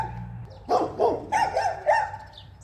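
Several dogs give a short burst of barking, about four or five yaps and woofs in quick succession, fairly close against a quiet background.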